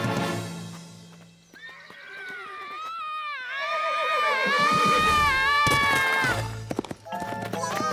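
A cartoon horse from Fireman Sam gives a long, loud, wavering neigh, followed by a quick clatter of hooves and another whinny as it runs off.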